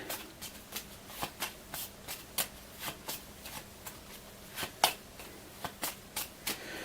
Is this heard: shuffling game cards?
yes